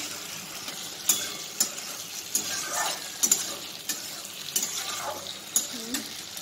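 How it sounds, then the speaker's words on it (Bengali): Paneer fries in oil in a pan, a steady soft crackling hiss punctuated by occasional clicks and scrapes of a utensil stirring. "আর এখানে পনির ভাজছি"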